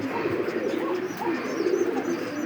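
Fancy pigeons cooing at a pigeon farm, several soft throaty coos close by in quick succession over a low background murmur.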